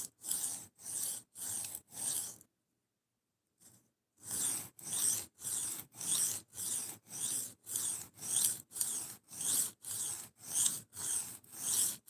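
Knife blade stroked on a 140 grit diamond sharpening plate: a steady run of even rasping strokes, close and fairly quiet, broken by a short pause before the strokes resume.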